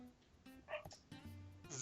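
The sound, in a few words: dog barking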